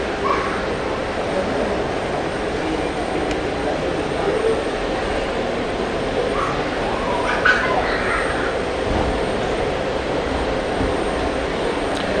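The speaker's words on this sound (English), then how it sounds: "Got an APU starting up, that is the KLM" A KLM aircraft's APU starts up at Hamburg Airport, giving a steady, broadband rumble and whine that holds level throughout amid distant airfield ambience.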